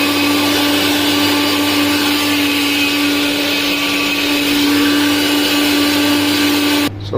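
Blender puréeing tomatoes, a loud steady motor whir running nonstop for several seconds before cutting off abruptly.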